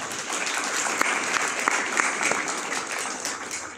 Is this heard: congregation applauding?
yes